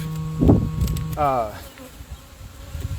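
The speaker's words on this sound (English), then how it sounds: "it's not really the best kind of day to be going into a beehive" Honeybees hum and drone around an opened beehive on an overcast day, a close buzzing swell with a rising whine partway through. Faint voice sounds sit underneath.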